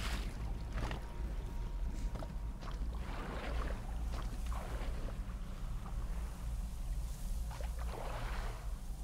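Rowing a small boat in the video game Metro Exodus, repeated soft oar splashes and watery swishes every second or two over a low rumbling ambient hum.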